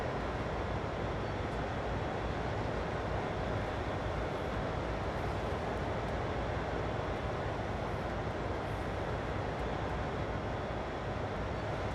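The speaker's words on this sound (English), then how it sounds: "Oh, there's a train passing us as well." A CSX heavy-haul freight train passes in Train Sim World, heard from inside a locomotive cab with the windows shut: a steady, dense rumbling roar that holds level for the whole stretch, with no talking.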